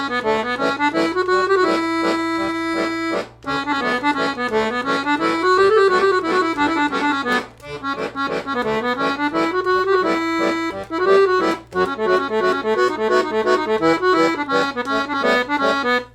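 A 120 bass accordion plays a section of a tune, with steady reedy chords and melody phrases flowing over a sustained bass drone, loud and close with brief pauses between phrases.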